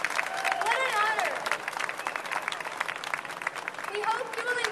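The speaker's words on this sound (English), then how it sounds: "How about another big round of applause for our award winners this year?" An awards-ceremony audience at the Downtown Denver Partnership Awards applauds, with steady dense clapping and crowd noise, while voices cheer and talk over it.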